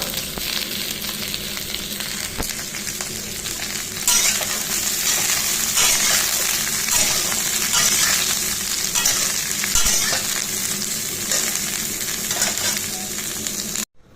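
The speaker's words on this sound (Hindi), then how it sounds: "तो हम तेल गर्म हो चुका है तो हम इसे डालते हैं और गोभी का भुजिया पकाते हैं।" Cauliflower bhujiya fries in hot oil with a loud, dense, continuous sizzle and crackle, close up, swelling briefly louder partway through before cutting off abruptly at the end.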